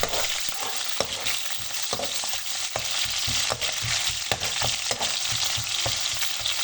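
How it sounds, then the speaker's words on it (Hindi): Thickly cut onion fries in a pan until lightly browned, with a steady close sizzle and frequent scraping stirs knocking against the pan. "प्याज को हल्का सा ब्राउन करेंगे, सिर्फ इसका कलर ही चेंज करेंगे।"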